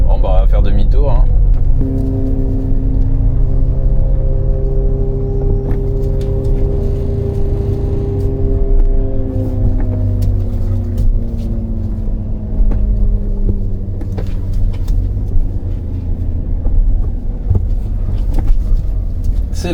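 A Suzuki Cappuccino that was renovated after a flood drives and turns around, its small engine droning and rising and falling in pitch with the gear changes, clearly heard from inside the car while someone talks over it.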